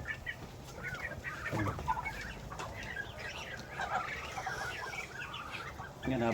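Chickens cluck and murmur at low volume alongside ducks on a rural farm in Mindanao, with faint scattered bird calls and background noise.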